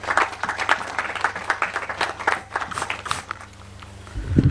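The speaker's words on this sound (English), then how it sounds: "Please give me another round of applause." Audience at a private sector CEO forum breaks into steady applause, many hands clapping in a dense patter at moderate distance that thins briefly before swelling again at the end.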